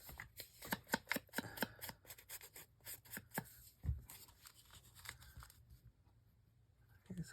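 Paper is torn by hand during a craft session, a run of close, crisp ripping and crinkling bursts in an irregular rhythm, with a short thump partway through and no talking.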